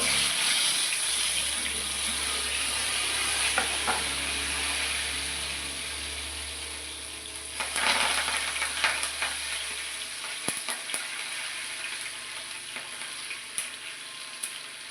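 Mustard seeds and green chillies fry in hot oil in a pan for a Kerala-style chicken thoran, giving a continuous crackling sizzle with scattered pops and occasional stirring clatter and no talk over it.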